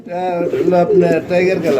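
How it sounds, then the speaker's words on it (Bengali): American fantail pigeons coo in soft repeated throaty phrases, close and fairly loud, filling the short stretch. "ইউলো কালার দেখতে পাচ্ছেন আপনারা লক্কা কবুতর আমেরিকান"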